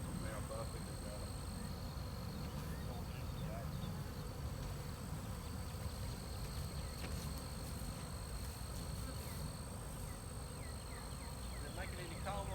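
A honeybee swarm being caught, heard as a dense, continuous buzzing of many bees close by, loud and steady throughout with a faint high whine above it.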